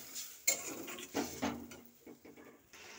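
A metal lid is set onto a cooking pot of potatoes simmering in water, giving a few sharp clanks and clatters close by, with softer knocks of pan and utensil between them.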